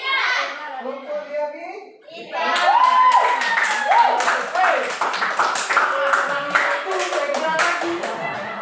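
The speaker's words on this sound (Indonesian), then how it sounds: "Beri aplaus kepada kelompok bersuara lantang" A school class claps for a discussion group. After a teacher speaks and children's voices are heard, there are several seconds of loud, close, scattered applause from many young hands, with voices mixed in.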